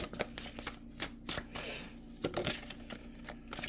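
Angel number cards are shuffled by hand, making quick riffling flutters and soft slaps at close range. No one speaks.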